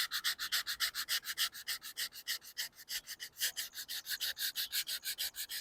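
Rapid rhythmic rubbing of sandpaper over a black gap-filling super glue patch, a steady series of close back-and-forth strokes with no talking.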